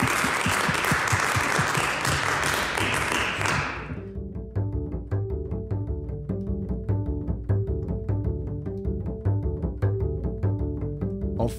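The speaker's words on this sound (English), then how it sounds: "if we can give our clinicians a round of applause" A panel-discussion audience gives the clinicians a full, loud round of applause for about four seconds. The clapping then stops abruptly and steady instrumental music takes over.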